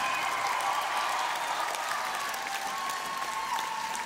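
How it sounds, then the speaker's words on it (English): Concert crowd at a 2008 Union Chapel show applauding the backing band, a steady wash of clapping and cheering held at an even level throughout, with no break. "I want you guys to make a big fucking round of applause for this amazing band I have,"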